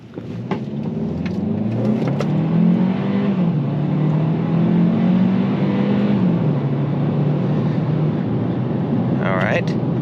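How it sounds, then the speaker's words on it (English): A 2024 Hyundai Kona accelerates hard in sport mode, its engine revving and rising in pitch, then dropping and climbing again as it shifts, loud and close inside the cabin with a voice speaking over it. "So I'm going to accelerate in sport mode, see what it's like."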